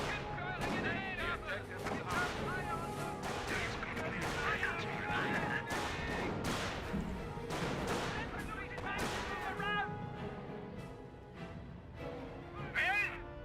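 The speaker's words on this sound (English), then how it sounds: "Mortar half track firing away." Mortar half-track firing in the Company of Heroes video game, amid a battle: repeated sharp booms and explosions crack out irregularly over a dense din of gunfire, with a voice talking intermittently underneath.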